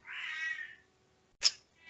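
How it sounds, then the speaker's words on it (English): Casper, a pet house cat, lets out a long drawn-out meow, then after a brief silence a short sharp yowl, followed by the start of another cry, close and clear with no talking. "I have a cat."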